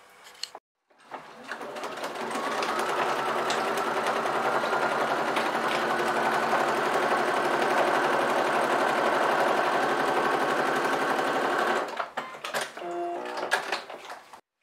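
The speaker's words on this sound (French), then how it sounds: "Donc j'ai fini de matelasser mes 2 tissus." A sewing machine quilts two layers of fabric together in one continuous, even run of fast stitching lasting about ten seconds, with a few quiet handling clicks before and after.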